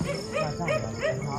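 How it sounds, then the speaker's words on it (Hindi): Dog barking at night in a sandy desert setting, a few rhythmic barks or yips repeating about three times in quick succession, moderately near and fairly clear. "उधर कुत्ता भौंक रहा है"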